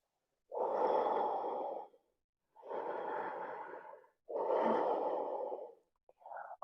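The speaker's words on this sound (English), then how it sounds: "Make the exhales long." Slow, deep breathing during a relaxing stretch: three long, audible exhales, each about a second and a half, separated by quiet pauses, close and fairly soft, with a faint short sound at the end.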